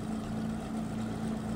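A steady, droning boat engine hum from the video game GTA IV, with a low, constant pitch, runs unbroken throughout, like a motorboat cruising at even speed.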